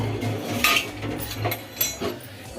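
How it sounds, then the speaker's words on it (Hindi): Kitchen utensils and dishes clink and clatter while being washed, with repeated metallic chinks of cutlery and pots over running water, close and steady, no talking. "ये सारे बर्तन कर लेती हूँ"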